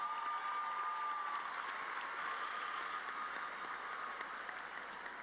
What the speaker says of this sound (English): a round of applause for the master's graduates from the Sanchez School of Business